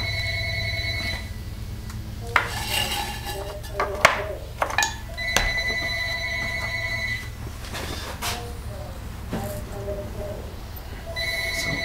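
A newer telephone rings in a pottery studio, its bright electronic tones repeating in several bursts over steady room noise, with faint clatter and occasional movement in between.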